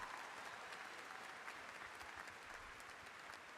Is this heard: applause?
yes